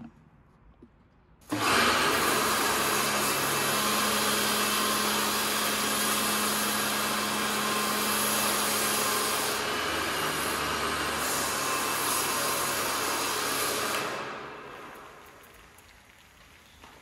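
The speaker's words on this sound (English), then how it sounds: "I will now fill the lance with the snö in its pure form and then foam it" A Kärcher FJ6 foam lance on a pressure washer sprays snow foam in a loud, steady, hissing rush that starts abruptly and runs continuously for about twelve seconds, then tapers off.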